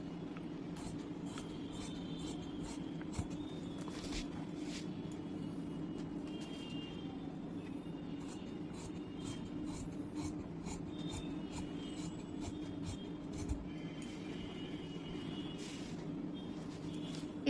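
Scissors cut through fabric for a deep-neck kurti, a steady close rasping and snipping texture running throughout with small sharp clicks, over a constant low hum and no talking.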